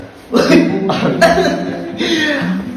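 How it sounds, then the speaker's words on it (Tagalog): A few short, harsh coughs in quick succession, close and fairly loud, with some voice-like sounds mixed in. "Ubo ko ah."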